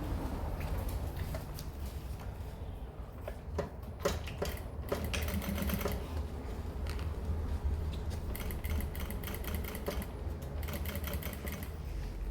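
A sewing machine stitches a seam on a zippered pouch, with the main fabric, lining and zipper sewn together on its longest stitch setting. A fast, continuous mechanical whir and rattle runs throughout at moderate loudness, with no talk.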